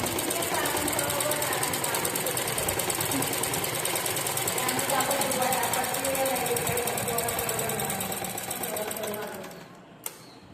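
A sewing machine runs continuously at a fast, even pace, stitching fabric with a dense mechanical whir close by before slowing and stopping near the end; a voice talks over it at times.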